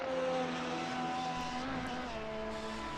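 A 320 race car in the F1 Challenge video game crosses the line at Daytona late in the race, its engine a steady, droning whine held at high revs with faint tonal shifts.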